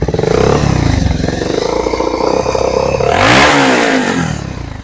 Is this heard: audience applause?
no